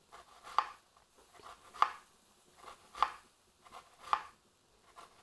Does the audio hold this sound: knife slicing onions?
yes